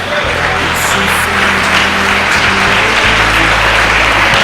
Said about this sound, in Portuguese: Você vai ficar de pé e vai aplaudir ao Senhor.